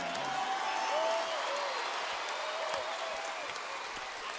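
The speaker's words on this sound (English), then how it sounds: "Good to see the crowd clapping their hands for the boys." A crowd at a live boxing event claps for the fighters, a fairly faint, diffuse wash of applause with some tonal noise mixed in.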